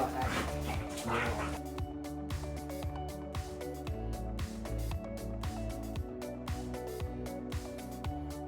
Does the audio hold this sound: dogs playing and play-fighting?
yes